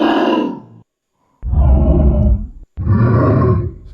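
A dog bark slowed and pitched down into a dragon roar for a fantasy series, three deep growling roars separated by short silences, loud and close with no talking.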